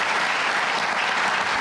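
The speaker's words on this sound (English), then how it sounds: "Get a big round of applause for this great panel." An audience at a Tampa Bay forum on the Gulf oil crisis claps for a panel, with dense, steady applause filling the whole stretch at a loud, even level.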